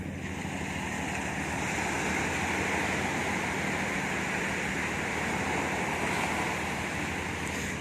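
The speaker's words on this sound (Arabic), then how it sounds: "ايه الموج شحال زينين" Sea waves break on the beach at Mohammedia in Morocco, a constant loud surf wash with wind noise on the microphone and no voices.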